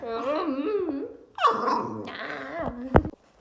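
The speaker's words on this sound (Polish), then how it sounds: "O, moja Daisy tutaj sobie szczeka." A pet dog vocalizes up close in a home during moving preparations, a whining, growling bark that rises and falls, ending in one sharp loud yip; no speech over it.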